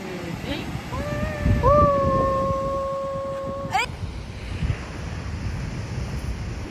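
Ocean waves wash onto a beach in Australia with a steady broadband surf roar and wind buffeting the microphone. A voice briefly rises above the water midway through.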